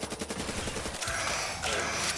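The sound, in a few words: Peacekeeper gun firing in Black Ops 3 custom zombies video game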